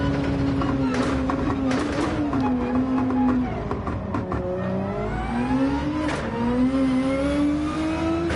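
BMW race car engine in Gran Turismo 7, a sustained revving drone with rising and falling pitch through gear changes, with a voice talking over it now and then.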